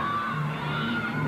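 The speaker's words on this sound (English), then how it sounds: "And here her teammates cheering her on," Gymnastics teammates cheering at the 1991 SEC Gymnastics Championships, a steady crowd roar of shouts and whoops filling the arena at full volume throughout.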